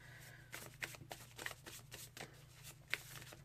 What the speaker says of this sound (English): now let's pull some fashion oracle cards